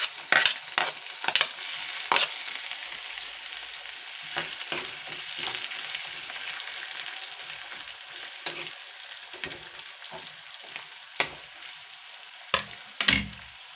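Curry leaves and finely chopped onion sputter in hot oil with a close, crackling sizzle, and repeated spatula scrapes and taps on the pan cut through it.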